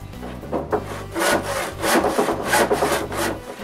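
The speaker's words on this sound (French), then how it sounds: "Comme j'ai mis énormément de colle, après une demi-heure, je dois gratter l'excédent." Excess dried glue is scraped off a wooden workbench top in a series of close, rhythmic rasping strokes that repeat evenly, with no talking.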